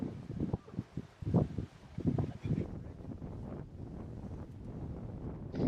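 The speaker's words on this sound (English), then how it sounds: "And now we have 10 knots of wind" Wind rushing past an aluminum Orion 49 sailboat under sail in about 10 knots of breeze, a steady low buffeting roar with gusty microphone thumps, no talking.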